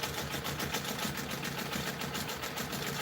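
A sewing machine stitching a pebble quilting pattern of circles inside circles, a fast, steady mechanical whirring and rapid needle rhythm, close and continuous, with no talking.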